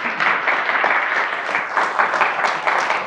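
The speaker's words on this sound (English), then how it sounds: "Let's give them a round of applause." An audience at an event honoring Utah's Buffalo Soldiers breaks into a steady, full round of applause, dense clapping sustained at even loudness for about three seconds with no talk over it.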